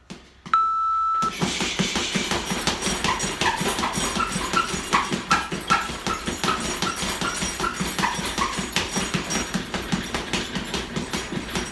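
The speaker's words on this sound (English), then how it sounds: "As soon as that timer goes, that beep, beep, beep, my 30-second interval is going to start." A single high interval-timer beep sounds briefly, then a fast, steady stream of thumping boxing punches follows.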